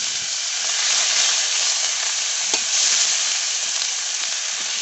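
Onion paste fries in a pan with a loud, dense, continuous sizzle that stays nearly even throughout, broken only by one faint knock. No speech.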